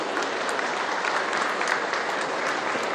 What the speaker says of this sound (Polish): A gdzie brawa dla przedmaturalnych?